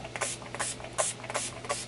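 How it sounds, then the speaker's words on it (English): Several short hissing sprays of makeup setting spray mist, close to the microphone, in quick irregular bursts with brief pauses between. "we're just going to spray this all over our face."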